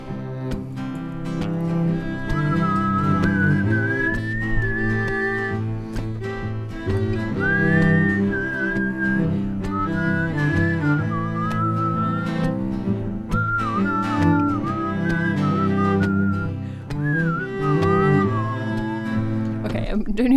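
A person whistles a flowing melody over steady musical backing, the tune clear and up front throughout, recorded during a live-streamed music session.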